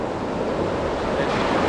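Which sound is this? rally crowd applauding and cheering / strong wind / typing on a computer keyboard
strong wind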